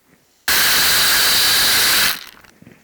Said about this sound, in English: So the first thing I'll do is I'll add the 2 3/4 cups of the wild rice